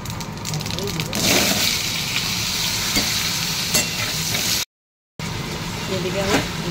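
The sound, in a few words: potatoes frying in a wok with cumin and bay leaf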